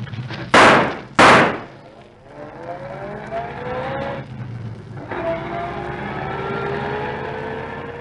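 Two loud, sharp gunshot effects fire in quick succession in a radio play, followed by a low rumble and a car engine driving rapidly away.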